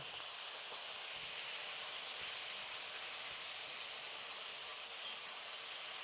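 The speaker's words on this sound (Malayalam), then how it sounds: "വിനാഗിരി ഇതിനകത്തൊന്ന് കിടന്ന് തിളയ്ക്കണേ" Vinegar simmers in a vegetable pickle mixture, a faint, even hiss of steam and bubbling that continues without a break, with no voices.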